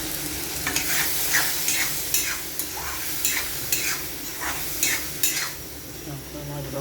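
A spice masala sizzles in a hot pan while a spatula stirs it, scraping the metal in a regular rhythm about twice a second over the steady frying hiss.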